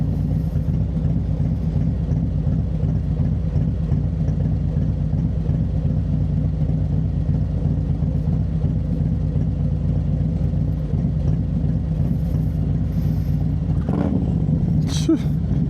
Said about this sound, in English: just listen to the bike